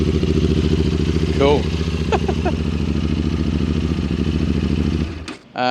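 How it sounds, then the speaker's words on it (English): A QJ Motor adventure motorcycle idles with a steady, throaty engine note, giving a couple of short blips of the throttle. It cuts off sharply near the end, and a voice speaks briefly over the running engine. "That's a really good sounding bike."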